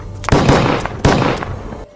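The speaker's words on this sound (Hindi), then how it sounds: "कुर्तों से तमंचे निकाले और इस्माइल पारकर पर फुर्ती से टूट पड़े।" Two loud, close gunshot-like bangs from pistols in a dramatized shooting, each followed by a short decaying rumble, about three-quarters of a second apart.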